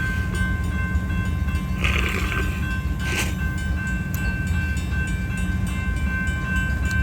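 Union Pacific UP 8860 slowly leads an outbound manifest freight train with gondola cars past at Baseline Road, a steady loud rolling rumble with a faint tonal whine and occasional squeals, and a voice speaking once briefly.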